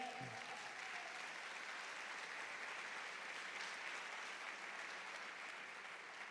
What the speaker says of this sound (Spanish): Puedes dar un aplauso a Dios por eso.